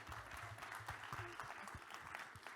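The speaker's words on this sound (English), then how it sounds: "One more round of applause for our panelists" Audience applause for a panel discussion at a Samsung 837 event on the Metaverse, steady clapping from a crowd filling the whole stretch at moderate loudness.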